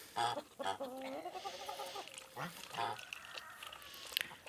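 Domestic ducks and geese honk and quack in a busy, overlapping cluster of calls, fairly close, with brief pauses between bursts.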